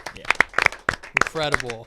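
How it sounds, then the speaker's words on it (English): Podcast hosts in a studio clap a few sharp, close hand claps, spaced unevenly between one another, with a voice speaking over the end. "Let's clap it up for the boys."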